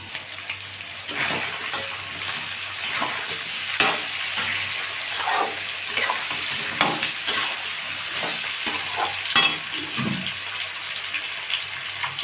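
Mutton being sautéed with spices in a pot for a Bengali green-chilli mutton curry, a steady close sizzle with repeated scraping stirs and clinks of a spoon, no talking.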